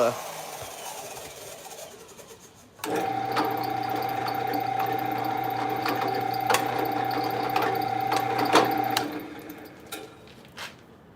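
A drill bores the final small hole in a knife sheath at a knife-making workshop, giving a steady, even mechanical whir with a faint tonal hum that runs about six seconds after a quieter lead-in, then stops.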